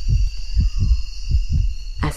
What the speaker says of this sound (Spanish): con el latido de su corazón